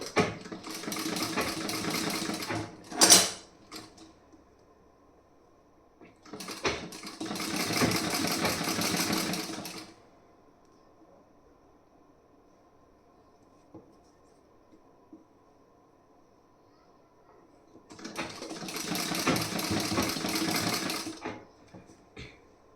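A sewing machine stitching a piece-style blouse, three bursts of steady mechanical whirring separated by quiet pauses, with a brief sharp clack early on, heard close and without talk.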